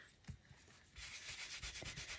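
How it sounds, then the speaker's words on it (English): A stamp gets scrubbed clean on a Hero Arts stamp block scrubber, giving soft, faint rubbing strokes in an uneven rhythm, close by and quiet, with no voices. "I'm going to use the little stamp block scrubber from Hero Arts to clean my stamp"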